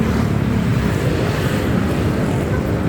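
Heavy motorcycle traffic near Commonwealth Highway in Quezon City, at a fuel subsidy handout for motorcycle riders, forms a dense, steady, loud roar of engines with no clear gaps.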